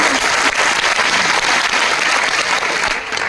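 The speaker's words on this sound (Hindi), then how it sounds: "एक बार जोरदार तालियां" Loud, energetic applause from a large seminar audience in Ludhiana, a thick continuous roar of clapping close and sustained, easing slightly just before the end.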